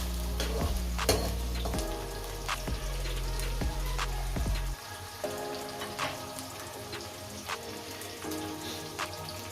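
Onions fry in hot oil for an aloo chicken dish, with a constant crackling sizzle broken by sharp ticks and taps of the stirring spoon, all under steady background music.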